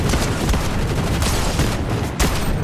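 Dense, continuous gunfire from a point-and-shoot shooting video game: overlapping rapid shots merging into a loud fusillade with heavy booming low end, running throughout without pause.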